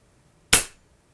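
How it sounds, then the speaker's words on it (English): An FX Impact airgun is dry fired to clear trapped air from its system, giving a single sharp, close pop with a short hissy tail in a quiet room, without speech. "I did check with Ernest at FX Airguns, you can just dry fire the gun a couple of times until you hear the air clear out of the system"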